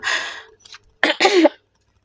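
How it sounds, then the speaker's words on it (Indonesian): Two short bursts of coughing from a person with a cat fur allergy, close and fairly sharp, separated by a brief quiet gap. "kenapa aku batuk-batuk terus, karena aku alergi bulu kucing"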